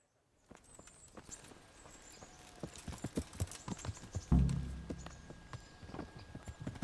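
Horse hooves clip-clopping in the video game Kingdom Come: Deliverance, a steady rhythmic series of sharp hoof strikes close by, picking up into a heavier thump midway and continuing at an even trot.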